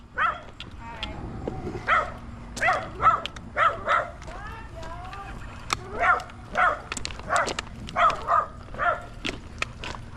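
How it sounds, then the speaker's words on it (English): Several dogs bark and yip in quick irregular bursts close by, a mix of sharp barks and whiny yelps repeating across the clip, with a steady low hum underneath. "Let me get past these dogs"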